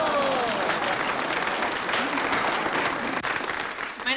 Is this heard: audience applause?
yes